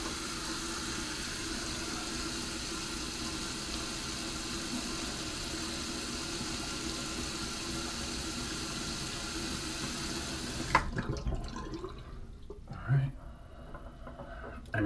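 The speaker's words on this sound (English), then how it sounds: "I'm just going to rinse my face and I'm starting to start lathering up" Tap water runs steadily into a sink for a rinse of the face before a straight razor shave, a constant close hiss that stops abruptly near the end, followed by faint handling sounds.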